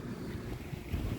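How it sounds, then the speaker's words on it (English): Steady low wind rumble buffets the microphone throughout, a continuous blustery roar with no voices. "it's probably really windy out, guys, I'm sorry."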